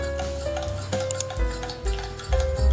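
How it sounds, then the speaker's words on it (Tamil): Mint mojito being stirred in a glass with soaked sabja seeds, a spoon clinking and scraping with soft irregular ticks and taps against the glass, close up and without talk. "இப்போ எல்லாத்தையும் சேர்த்து நல்லா மிக்ஸ் பண்ணிக்கலாம்."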